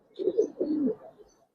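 Giribaz coloring pigeons coo close by in two soft, throaty bursts, with a faint chirp above and quiet in between.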